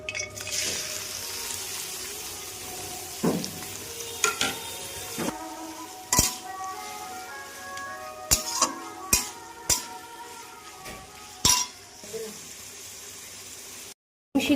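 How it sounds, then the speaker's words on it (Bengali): Chopped onions fry in hot oil for a Bengali-style egg biryani, giving a steady close sizzle broken by sharp, irregular clicks and scrapes of a spoon stirring against the pan. "এবার পেঁয়াজগুলোকে দিয়ে নিচ্ছি।"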